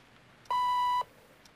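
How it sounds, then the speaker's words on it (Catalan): A single steady electronic tone from an answering machine, about half a second long, clean and close over a quiet background with no voices. "Sisplau, deixi el nom i el missatge després del senyal."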